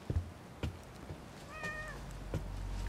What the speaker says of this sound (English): Oh, she's got multiple cats.